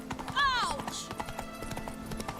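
Geralt's horse Roach in The Witcher 3 trots with a steady clip-clop of hooves, close and fairly loud. A short whinny rises early on.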